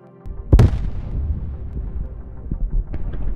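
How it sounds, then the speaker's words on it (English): A Bradley fighting vehicle fires on a Russian tank and destroys it in combat, one heavy boom followed by a long rumbling decay with faint further thuds. "The Bradley fires accurately and destroys the Russian tank."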